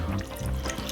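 Water pours steadily into a soup pot with diced tomatoes, a continuous splashing trickle heard close up, with no talking.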